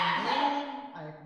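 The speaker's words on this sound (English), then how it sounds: "It's like two dogs want to play." Two playful wiener dogs yip and whimper in a quick excited burst, close and fairly loud, with a human voice mixed in.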